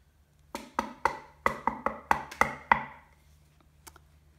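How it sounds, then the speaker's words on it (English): A woodpecker drums on wood in a quick series of about nine sharp, close knocks that fade toward the end, with one or two faint taps afterward. "This is a woodpecker, and they sound like this."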